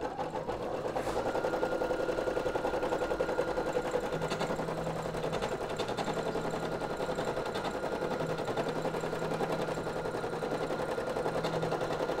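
A sewing machine stitches a synthetic appliqué bear embroidery with a continuous, close, rapid mechanical chatter that runs evenly throughout and has no talk.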